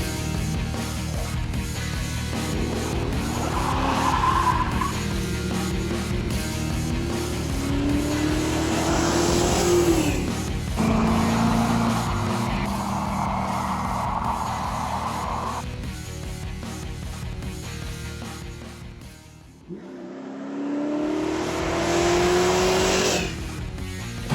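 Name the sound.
car doing spirited driving with tire squeal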